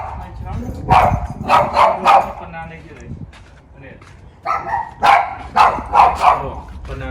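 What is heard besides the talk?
dog barking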